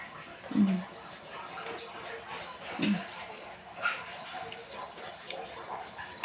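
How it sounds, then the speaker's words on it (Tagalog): A dog gives a couple of short low whines or barks, with birds chirping in the background and faint talk nearby. "Yung aking aso ay gusto din kumain na."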